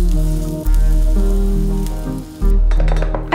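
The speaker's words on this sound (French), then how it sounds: "Je trempe les fleurs dans la pâte et je les fais poêler de chaque côté jusqu'à ce que ce soit bien doré." Battered flowers pan-frying in a skillet until golden, a loud steady sizzle running under prominent sustained background music that shifts chords twice.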